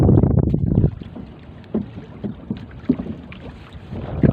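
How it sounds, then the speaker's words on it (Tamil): Strong wind at sea buffets a fishing boat, heavy gusting roar and microphone rumble loudest at the start, then uneven bursts and flutters with water slapping against the hull. "காற்று கொஞ்சம் கூடிட்டு"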